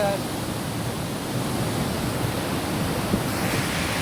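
The Dhuandhar waterfall on the Narmada river roars as a steady, dense wash of falling water that stays constant throughout, with a voice speaking over it.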